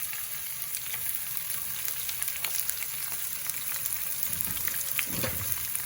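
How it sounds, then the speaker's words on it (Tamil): Chillies, curry leaves and onion hitting hot oil in a pan, giving a loud, dense, crackling sizzle that stays steady and close throughout, with no talking. "எண்ணெய் நல்லா கொதிச்சிருச்சு இப்போ வந்து இந்த மிளகாய் கருவேப்பிலை வெங்காயம் எல்லாத்தையும் போடுவோமா"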